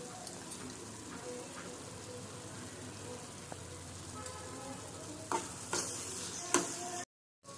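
Bread halwa with raisins being stirred in a pan, a soft continuous sizzle and faint scraping with a few sharper clinks of the spoon near the end.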